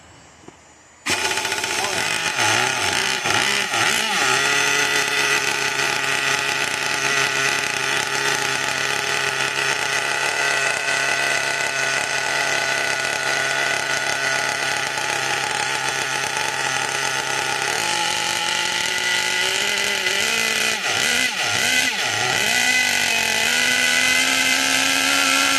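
A 2002 Kyosho Mad Force RC monster truck's small nitro engine starts up and runs continuously, a loud, buzzy high-pitched drone with occasional throttle blips and rev changes.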